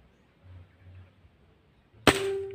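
A single sharp shot from a VMG air rifle fired at a target, heard as one loud crack that rings on briefly, after a quiet stretch with a faint low hum.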